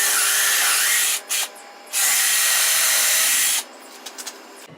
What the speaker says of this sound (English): I just need to run the drill press through and finish drilling those out